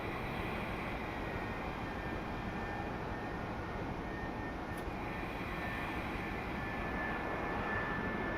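An aircraft passes overhead near an airport in Train Simulator, a steady broad engine roar that holds at a constant level throughout, alone and without talk.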